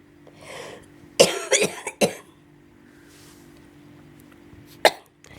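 Coughing fits from a sick woman with a painful head, a cluster of harsh coughs near the start, then a single sharp cough later, close and alone.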